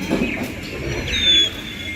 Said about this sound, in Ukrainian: І там співають пташки. Зараз ви це почуєте.